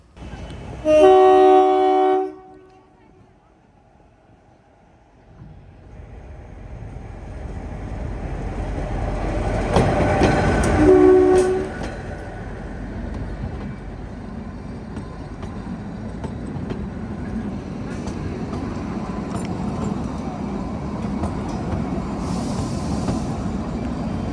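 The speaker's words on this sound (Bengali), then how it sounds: "আমার সামনে চলে এলো কালকা থেকে সিমলা হিমালয়ান কুইন" The Himalayan Queen toy train on the Kalka–Shimla railway sounds a loud horn toot at the start, then approaches with swelling rumble and a second short horn blast before rolling past with sustained clatter and rumble; no one speaks.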